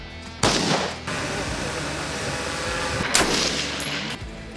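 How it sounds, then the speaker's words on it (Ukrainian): Sharp, loud gunshots and explosions ring out near the start and again around three seconds at a youth military training camp, with rumbling reports and crackle between them. "лунають постріли і вибухи"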